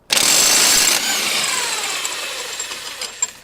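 A power tool zips loose an axle nut on a Subaru Impreza, a loud close burst of impact whirring about a second long, then a winding-down whine with light clinks.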